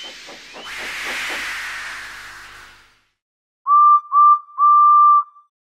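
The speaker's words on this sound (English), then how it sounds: "So they lit his fire, made lots of steam, and Edward puffed away." A steam locomotive releases a long, loud rush of hissing steam with chuffing bursts at the start. After a short silence the whistle sounds three steady toots, the last held longest.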